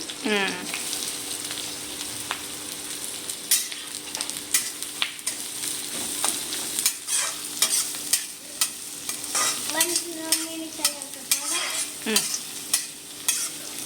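Green chillies and onions frying in a pan give a steady sizzle, with repeated loud scraping and clanking strokes of a stirring spoon. Brief background voices are heard in places.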